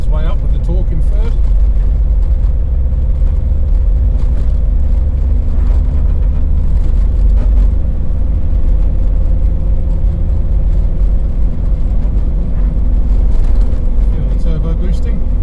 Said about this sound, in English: Up a very steep hill, just tugging its way up with the torque in third.